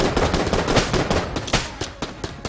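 A gun fires rapidly in the Enter the Gungeon video game, giving a dense, loud barrage of overlapping shots that crackle without pause. Sharper individual blasts punch through toward the end, and no voices are present.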